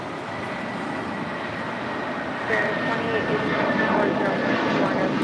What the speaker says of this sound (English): This is United Airlines Flight 1635 departing to Washington Dulles